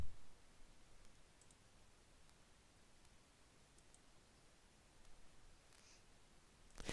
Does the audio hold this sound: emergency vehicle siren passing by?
no